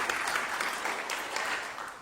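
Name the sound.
small round of applause for students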